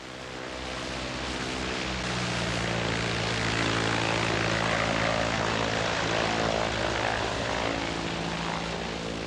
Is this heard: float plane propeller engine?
yes